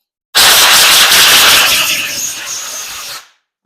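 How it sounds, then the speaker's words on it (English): A compressed-air gun blowing off a Polar snowmobile primary clutch: one loud, close, continuous hiss of air lasting about three seconds that tapers off at the end. "Grab your air gun,"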